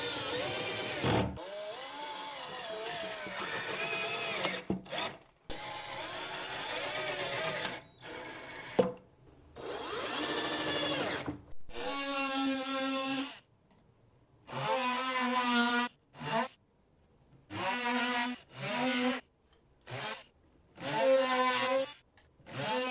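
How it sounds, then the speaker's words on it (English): Power drill sinking 2-inch construction screws into wood shelving trim: repeated whirring bursts of a few seconds each, rising in pitch, separated by short silences, close and loud with no talk. "these are just 2-inch construction screws that I'm going to screw in here"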